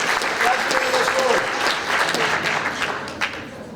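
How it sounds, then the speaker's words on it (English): A school audience applauds an eighth grade student president coming up to speak, steady loud clapping with crowd voices mixed in, tapering slightly toward the end. "Give a nice round of applause."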